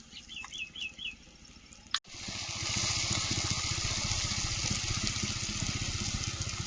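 Water poured into a cooking pan of spiced tomato and onion masala, a sudden loud rushing splash that settles into a steady hissing pour, after a few faint bird chirps nearby.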